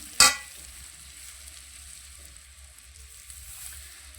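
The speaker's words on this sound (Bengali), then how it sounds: "আর এটাকে আমি আর একটু ভালো করে ভেজে নেব।" Aloo dum (spiced potatoes) frying in a pan, a soft steady sizzle running throughout after one brief sharp clatter at the start, faint and close with no talking.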